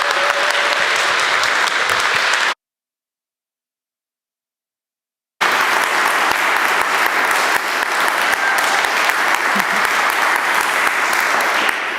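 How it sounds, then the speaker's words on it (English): Audience at a TEDx event applauding the evening's first speaker, sustained loud clapping from a crowd, broken by a roughly three-second gap of silence before resuming. "I want you to give her a very, very big applause"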